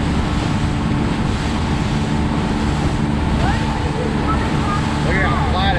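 A fishing boat runs offshore through Boca Inlet toward deep water, giving a loud, steady engine drone mixed with rushing wind and water spray that holds unbroken throughout.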